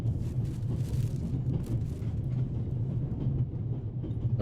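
Train interior ambience in the video game The Raven Remastered, a low steady rumble of a moving railway carriage with faint rattling, continuous and quiet, with no voices.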